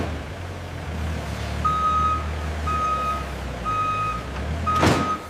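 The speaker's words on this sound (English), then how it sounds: "A branded truck departs the factory at dusk, symbolizing successful production and global distribution." A truck leaving a leather factory at dusk idles with a low engine rumble while reversing beeps repeat at a steady pace, and a short burst of air-brake hiss comes near the end.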